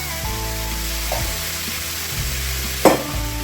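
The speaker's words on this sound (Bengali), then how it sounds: "আমি ভালো মশলার সাথে ভেজে নেব" Potatoes and a large chopped tomato frying with spices in a pan for Bengali aloo dum, giving a steady close sizzle with a few stirring scrapes and one brief clatter near the end.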